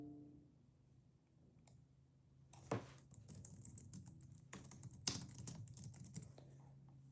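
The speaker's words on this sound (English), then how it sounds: "She's typing really fast." Fast typing on a computer keyboard, quick irregular bursts of soft key clicks at close range over a faint background hum.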